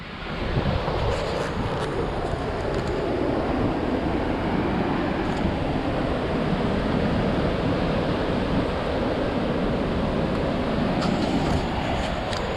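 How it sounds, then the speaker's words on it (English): Rough surf breaking on the beach at Port Aransas, Texas: a steady, loud wash of waves with broadband roar and wind rumble, continuous for the whole stretch with no talk. "there's some pretty good waves out there"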